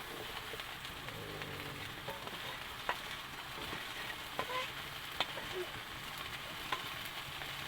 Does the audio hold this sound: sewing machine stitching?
no